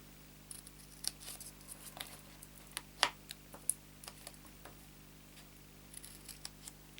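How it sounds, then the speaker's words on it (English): Scissors snip through card for a chocolate pull-up box, a string of crisp, close cuts of irregular rhythm with one louder snip midway over a steady low hum. "scissors will go straight through that"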